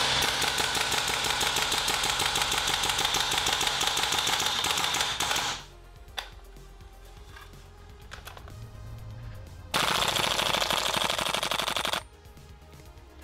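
A WE G36c gas blowback airsoft rifle fires loud, rapid full-auto bursts: a long stream of shots, a pause with faint handling clicks, then another short burst that stops abruptly.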